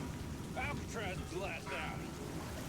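Steady, hissing rain fills a video game scene as a broad wash of noise. A voice talks over it throughout.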